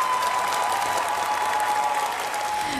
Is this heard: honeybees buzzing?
no